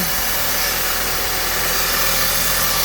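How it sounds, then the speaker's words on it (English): A 2002 Honda Civic LX idles nearby with a steady mechanical drone and a thin transmission whine running continuously underneath, with no voices. "The whining you're hearing is indeed coming from the transmission"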